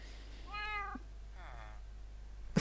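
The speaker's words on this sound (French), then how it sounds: "Miaou." In Minecraft, a game cat lets out two short, clear meows a moment apart over a low steady hum, ending with a brief click.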